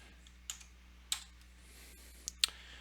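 Several sharp, close key clicks sound on a computer keyboard, a few separate taps spaced out over a quiet hum, with no talking.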